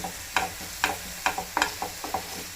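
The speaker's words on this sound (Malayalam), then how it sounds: "ഒനിയനാണ് അത് ഫൈനായിട്ട് സോഫ്റ്റ് ചെയ്യുക നല്ലപോലെ വഴയണം" Onion softening in a hot pan with ginger for a cowpea sandwich filling: a steady quiet sizzle broken by six or seven sharp, evenly spaced scraping strokes of a spatula, close and without voices.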